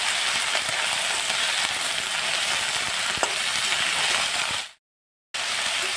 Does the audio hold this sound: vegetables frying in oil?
yes